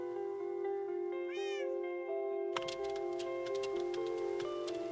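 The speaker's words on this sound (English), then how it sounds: "There's a cat under here." A single short meow from a cat in Minecraft rises and falls over a steady droning tone, followed by a rapid, regular ticking that continues to the end.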